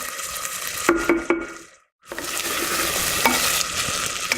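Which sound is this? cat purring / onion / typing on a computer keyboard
onion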